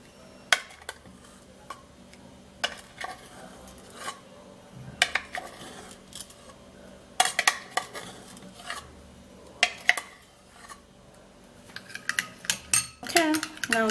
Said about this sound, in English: now time to stir this all up